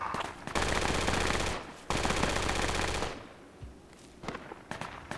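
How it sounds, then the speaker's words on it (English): An AR rifle fires in a video game battle, with two long bursts of rapid automatic fire, loud and close, followed by scattered fainter shots. "AR is shooting"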